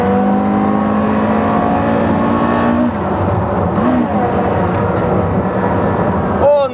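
A Porsche Carrera GT engine at high revs on a race track, loud and close and held at a steady howl, then dropping as the driver backs off and rev-matches on a downshift, with a brief blip near the end.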